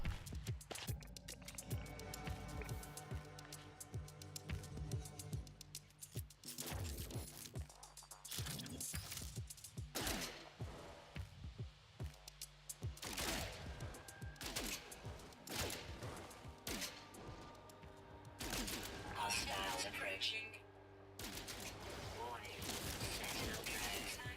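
Gunfire from a weapon in the space exploration game No Man's Sky, loud, repeated bursts of shots over a dense bed of game music and effects, continuous throughout.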